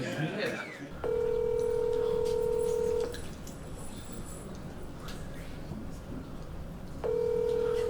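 A telephone call placed in front of a room of about 150 people gives two steady, loud electronic ringing tones, a two-second tone followed later by a second one, over a low crowd murmur.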